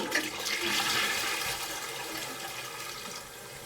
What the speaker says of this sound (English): Why don't I have a flush sound?